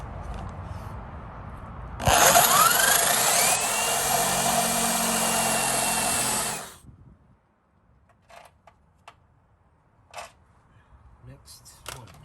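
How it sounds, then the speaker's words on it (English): A power drill whines loudly for about five seconds, its pitch rising then steady as it bites through a metal skid plate for a BMW E30, followed by quiet shuffling and faint clicks. "now I'm gonna go ahead and drill them out"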